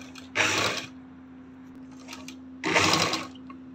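A sewing machine stitches lace onto an angrakha top in two quick bursts of loud, rapid needle clatter, with a steady motor hum running through the pause between them.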